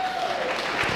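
Brief burst of audience clapping at a live comedy-style introduction, a dense steady patter filling the whole second.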